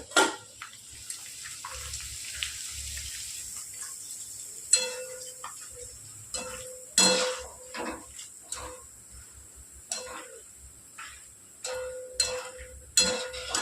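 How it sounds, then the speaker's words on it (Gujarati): Corn flakes (makai poha) frying in hot oil for mamra chevdo, a steady soft sizzle and bubbling with intermittent scraping and stirring clicks from a utensil in the pan, no talking. "હવે જેના વગર આપણે મમરાનો ચેવડો અધૂરો છે એવા આપણે મકાઈના પૌવા તળીશું."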